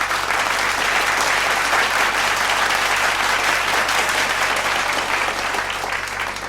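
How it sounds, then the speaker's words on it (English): An audience at a school annual day applauds a prize winner with sustained, dense clapping that holds steady and loud throughout, tapering slightly at the very end. "Please welcome Varunita on stage with a huge round of applause."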